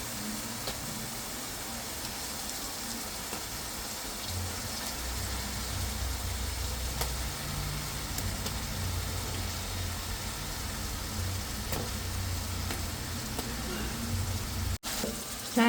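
Fish pieces fry in masala with curry leaves, giving a continuous dense sizzle and crackle, close and steady throughout, with a faint low rumble underneath.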